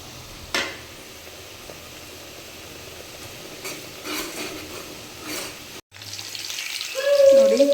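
Kebab pieces fry in oil in a home kitchen pan over low flame, a soft continuous sizzle with occasional faint clinks of a utensil, growing a little louder near the end.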